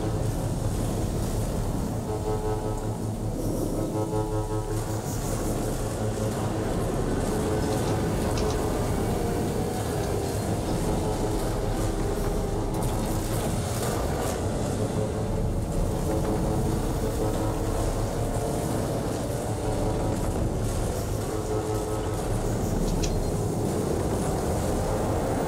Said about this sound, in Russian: Как электричка начинает разгоняться